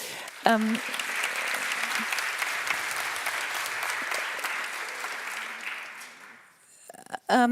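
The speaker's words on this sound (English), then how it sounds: "please a warm welcome, applause for them again" A forum audience applauds to welcome two speakers, a thick sustained round of clapping that stays even for about six seconds before fading, with a voice speaking briefly at the very start and again as the clapping ends.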